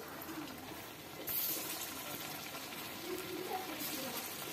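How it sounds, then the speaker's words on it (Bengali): Jackfruit and chhana koftas frying in hot oil give a steady, dense hiss that stays even and moderately quiet throughout, with no voices. "এই পর্যায়ে তেল দিয়ে দিয়েছি, আমি এবার ভেজে নেব কোপ্তাগুলো।"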